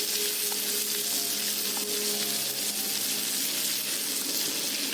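Cumin seeds sizzle in hot oil with a steady, bright, close hiss that carries evenly from start to finish, with no talk.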